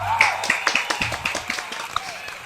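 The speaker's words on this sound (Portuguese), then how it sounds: "Uma salva de palmas" Audience clapping welcomes a guest on a film-critic panel discussing the Oscars 2020, a spread of quick claps under a presenter's voice.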